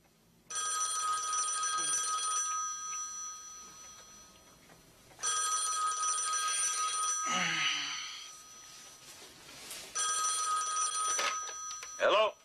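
A telephone bell rings in three long, loud bursts separated by short pauses, with people talking in between and over the rings.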